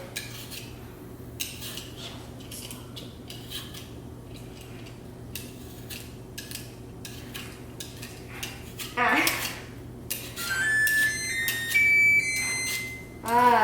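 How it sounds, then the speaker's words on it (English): Faint clicks and clinks from a kitchen lead into a run of electronic beeps as an oven is set to 400 degrees, all over a low steady hum. "That is the oven set to 400 degrees, 450."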